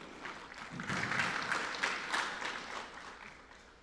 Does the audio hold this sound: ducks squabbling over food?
no